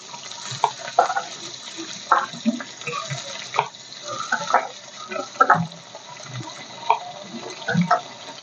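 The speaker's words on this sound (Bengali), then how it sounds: "এখন এটা জল দিয়ে ভালো করে ধুয়ে দিয়ে দেবো।" Tap water running over turmeric-rubbed food being washed in a kitchen sink, a steady splashing stream broken by irregular louder splashes and knocks as the food is rinsed, no talking.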